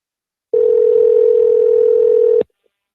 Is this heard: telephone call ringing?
yes